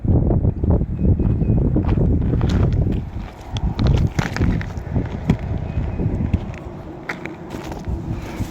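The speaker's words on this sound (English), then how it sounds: "There goes the wind blowing the shit over" Gusty outdoor wind buffets the microphone with a loud, steady rumble, easing slightly partway through, while scattered knocks and clatter of things being blown over come through.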